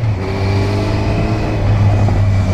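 A white Lamborghini drives by close and loud, its engine giving a deep steady rumble with a low droning tone that swells slightly toward the end, and no voices.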